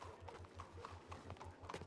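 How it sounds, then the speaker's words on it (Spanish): Horse hooves in the game Red Dead Redemption 2, a rhythmic clip-clop of a wild horse at a steady gait, quiet and fairly close, with no talk over it. "Y yo estoy en un caballo salvaje"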